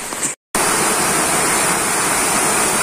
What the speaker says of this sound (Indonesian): Nah, itu air terjunnya.